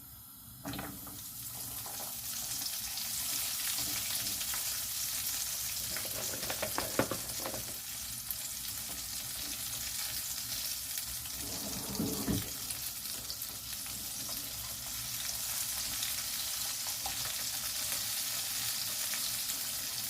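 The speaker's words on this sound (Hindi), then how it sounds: "इसको फुल फ्लेम पे फ्राई करेंगे, मीडियम या स्लो पे नहीं करना, फुल फ्लेम पे करना फ्राई।" Spicy chips fry in hot oil over a full flame, giving a steady, close sizzle and bubbling that runs unbroken for the whole stretch, with a few brief stirring clatters and no talking.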